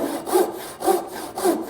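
A freshly sharpened frame saw cuts into wood to form a tenon, three close, even rasping strokes in a steady back-and-forth rhythm with no talking.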